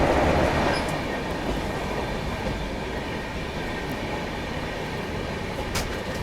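A diesel locomotive hauls the Palace Queen Humsafar Express with a loud, continuous rumble and rattling clatter that holds steady throughout, with no voices.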